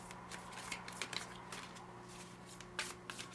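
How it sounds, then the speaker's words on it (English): Tarot cards are shuffled by hand, giving soft, quiet riffling flicks and small taps in irregular bursts, close up, with no speech over them. "Show the shuffling so we know you're not just picking random cards"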